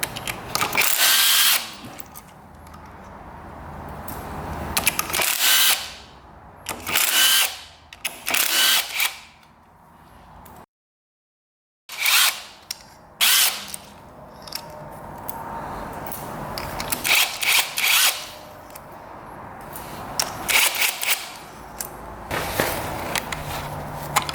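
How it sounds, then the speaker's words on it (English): Several bursts of a power tool, likely an impact driver, loosen clutch bolts on a low-compression dirt bike, with short whirring runs and clanks between them and one brief silent gap. "I think we're gonna take off the clutch just in case as well."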